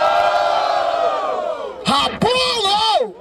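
A crowd at a rap battle final in Barueri roars and cheers loudly, with shouts and whoops swelling over a voice calling out.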